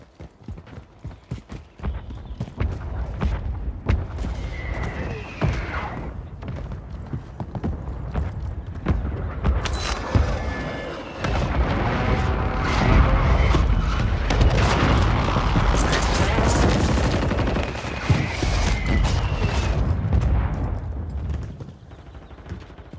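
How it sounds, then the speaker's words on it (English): Repeated mortar strike explosions in Warzone 2, a military shooter game, pounding as heavy booms and rumbling blasts over a dense battlefield din, growing louder and more sustained midway before easing off. "Friendly mortar strike inbound"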